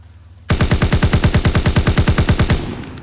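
A BAR automatic rifle in Call of Duty: WWII fires one loud, fast sustained burst of about twenty evenly spaced shots, ending in a short reverberant tail with no talking.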